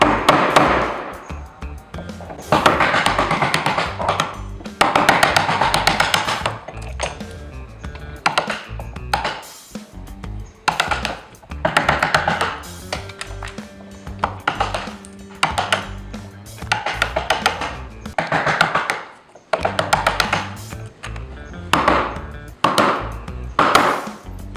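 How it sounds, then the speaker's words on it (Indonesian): A wood chisel is struck with a mallet or hammer to cut a mortise for a tenon joint, giving a run of sharp, close knocks in irregular bursts and clusters with short pauses between, and no one speaking. "kemudian dipahat lagi. Begitu terus sampai dia mencapai batas akhirnya."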